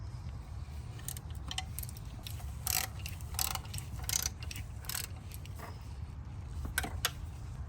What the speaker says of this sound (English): You're going to go ahead and tighten up these 10s. And just go in a crisscross pattern.